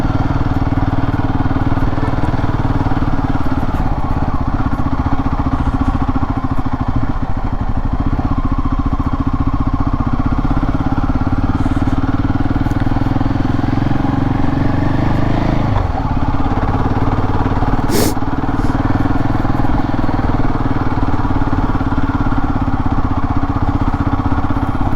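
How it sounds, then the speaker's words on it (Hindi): Motorcycle engine running steadily at mid pitch with some clatter, ridden on a narrow mountain road toward Hatu Temple near Narkanda in Himachal Pradesh, loud and continuous throughout with no talk. "देखते हैं भाई कहाँ तक जाती है अपनी बाइक।"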